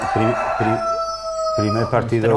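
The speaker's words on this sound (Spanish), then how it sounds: "Tenemos el gallo." Recorded rooster crowing played over a sports broadcast as a time-up signal at a Barça futsal match against Inter: one drawn-out cock-a-doodle-doo, loud and close, with a second crow starting right after and talk around it.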